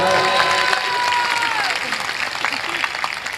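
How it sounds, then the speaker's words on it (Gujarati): Audience applause at a live Gujarati comedy and folk storytelling programme, a dense wash of clapping from a large crowd, loud and sustained throughout, with a voice speaking over it. "વધાવો તાળીઓથી વધાવો."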